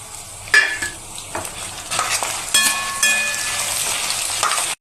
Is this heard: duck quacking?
no